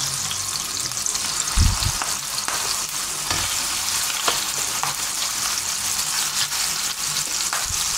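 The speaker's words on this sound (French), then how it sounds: "Pour faire revenir un peu, donner un petit peu de coloration à nos tondrons." Veal tendrons browning in oil and butter in a pan give a steady, close, loud sizzle with occasional soft knocks and stirring sounds.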